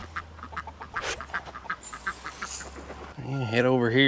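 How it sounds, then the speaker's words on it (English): Ducks at a farm pond at feeding time, with scattered quacks rising under someone talking, then a louder burst of bright, honking calls near the end. "Head over here and feed the ducks."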